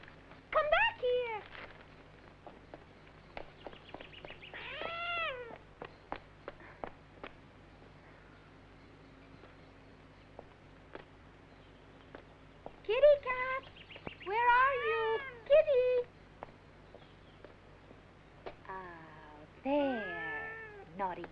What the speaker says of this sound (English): She's a very naughty cat